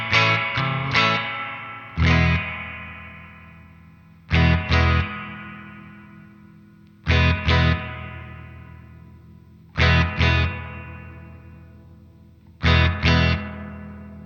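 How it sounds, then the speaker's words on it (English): An electric guitar played through a Danelectro Spring King Junior spring reverb pedal: short strummed chord pairs repeat every few seconds, each leaving a long, splashy, ringing spring tail that fades before the next. "You hear people talking about the drip and the splash of the springs."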